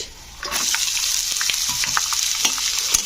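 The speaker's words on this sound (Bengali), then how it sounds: "পেঁয়াজগুলোকে একটু হালকা ভেজে নিতে হবে" Two medium onions go into a pan of hot oil after peanuts have been fried, while making South Indian-style tomato rice. The close, vigorous sizzle starts suddenly and then crackles steadily, with stirring clicks throughout.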